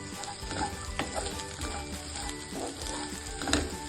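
Roasted gram and poppy seeds fry in oil in a pan for sambar, a faint close sizzle with a few soft scraping stirs and light crackles spaced through it, no talking.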